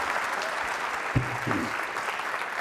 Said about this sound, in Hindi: पूजा जी के लिए भी तालियां जोरों से बजाइए